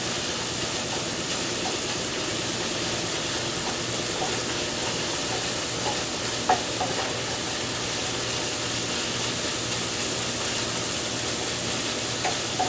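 Garlic sizzling steadily in a hot pan, stirred now and then with faint scraping, a continuous loud frying hiss with no talk.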